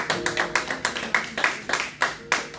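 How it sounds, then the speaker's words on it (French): Church congregation clapping together in a rhythmic, evenly spaced beat, moderately close and fairly soft, with no talking over it. "Peuple de Dieu, nous allons applaudir le Seigneur pour l'enseignement que nous avons reçu ce soir"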